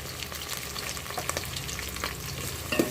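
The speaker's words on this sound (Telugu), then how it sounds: "ఇవి బాగా వేగనిద్దాము" Sliced onions and green chillies frying in a pan for a vegetarian curry, a quiet, even crackle with faint stirring scrapes running underneath throughout.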